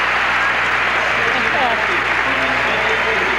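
Arena crowd applauding after a gymnastics routine at a 1986 international mixed pairs competition, a steady, broad wash of clapping held at an even level throughout, with faint voices mixed underneath.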